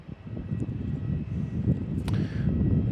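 A Jetstar Airbus A320 at Melbourne Airport produces a steady, moderate engine roar with broadband rumble, heard from a distance outdoors at a spotting location.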